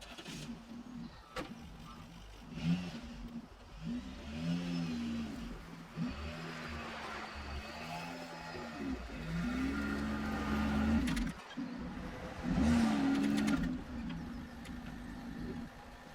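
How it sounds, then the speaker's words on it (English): Peugeot 307 SW car engine idling and running steadily as the car is moved back, a low continuous hum with some tonal whine rising and falling, close and fairly quiet. "I'm going to move the car back so we can actually do some stuff in the car."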